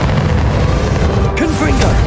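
Bombarda spell explosion in Hogwarts Legacy, a heavy, dense boom filling the clip with crashing debris and a bright burst partway through, loud and continuous, during the final battle against Ranrock.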